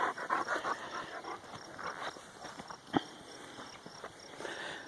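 A dog pants rapidly and moves around a home vegetable garden, with soft rustling steps and one sharper thump, all fairly quiet and close.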